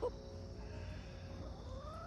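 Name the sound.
chickens clucking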